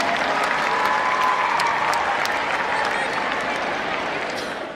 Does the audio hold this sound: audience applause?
yes